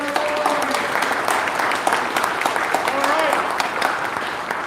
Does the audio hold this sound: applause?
yes